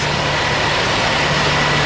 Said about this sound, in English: And here is one of the airport buses.